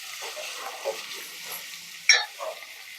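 Shallots and onions roast in hot oil in a pan for Tamil-style fish gravy, a soft steady sizzle with a few stirring scrapes and one sharp clink of the utensil against the pan.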